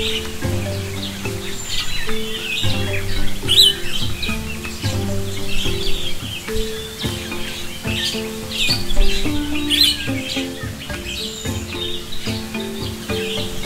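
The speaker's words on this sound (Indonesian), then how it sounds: "Burung madu belukar sedang memakan nektar bunga." An olive-backed sunbird feeding on flower nectar and a nearby cucak biru at an apiary give repeated sharp chirps and squawks, loud and close, over a busy layered background of other calls.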